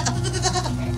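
A goat bleats close by, a short wavering cry repeated in quick pulses over a low steady background hum.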